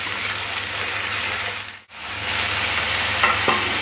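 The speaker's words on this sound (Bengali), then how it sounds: "পেঁয়াজটাকে একটু ভাজতে হবে, বেশি লাল করে পেঁয়াজ ভাজতে লাগবে না।" Onions fry in a pan for a katla fish and potato curry, a close, steady sizzle and hiss that cuts out for a moment and then resumes just as strongly.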